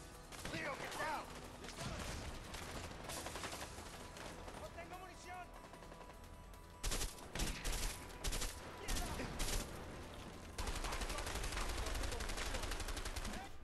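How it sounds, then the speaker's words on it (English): Gunfire in the video game A Way Out, dense bursts of rapid automatic shots and sharp cracks, loud and sustained with brief pauses, while players talk over it. "Like how my gun was going off still."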